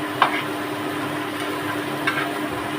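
Poppy seed (posto) and potatoes frying in a pan give a loud, continuous sizzle, with a couple of brief scraping stirs breaking through the steady hiss.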